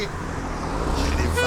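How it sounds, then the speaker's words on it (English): Road traffic with a car passing close by, a low engine rumble building in the final moment, under background street noise. "I'll go when the cars have gone"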